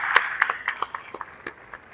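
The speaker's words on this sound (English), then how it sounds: "Let's give them a round of applause." Scattered applause for a school innovation team at an outdoor groundbreaking ceremony, a handful of distinct claps that thin out and fade over two seconds.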